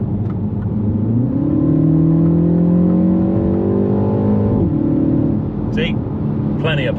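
Mini Countryman JCW accelerating onto a dual carriageway, heard from inside the cabin: engine note climbs through a gear, drops at a shift and rises again, steady road rumble beneath, brief speech at the end.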